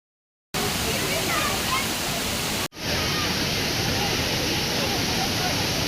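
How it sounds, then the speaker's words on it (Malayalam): The Areekkal waterfall roars with a broad, steady rush of falling water. The sound is close and loud, with one brief cut partway through, and no voices are heard over it. "ദേ ഇതാണ് വെള്ളച്ചാട്ടം."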